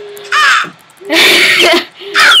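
Birds from the Mo' Creatures mod in Minecraft give repeated harsh crow-like caws in three loud bursts, up close and with no voices.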